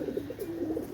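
A pair of Pakistani white golden baby pigeons coos close by, a soft steady run of low, rolling coos repeating through the moment with no talk.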